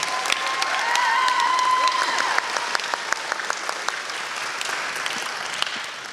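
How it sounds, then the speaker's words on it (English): Audience applause at a school graduation ceremony: a broad wash of clapping with sharp individual claps standing out nearby, a brief whistle-like tone early on, steady and sustained before slowly easing. "let's join in giving them a round of applause"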